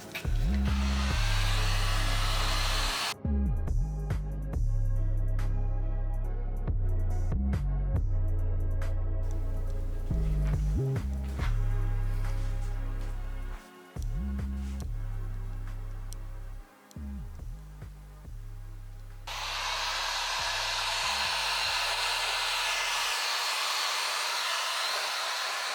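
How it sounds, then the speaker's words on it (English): Heat gun blowing hot air over an epoxy countertop sample board, a loud, airy roar at the start and again near the end, with soft music in between. "just using the heat gun to kind of blow it out and make it look more organic"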